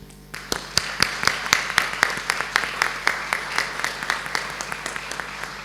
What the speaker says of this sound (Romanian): să aplaudați toată echipa Itibiți